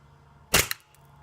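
A green gas airsoft gun fires a single 6 mm paintball: one sharp, loud near crack with a brief trailing snap, then quiet.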